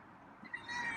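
A feral cat named Itchy lets out a faint, thin meow near the end of a short moment, following soft rustling nearby, with no talk.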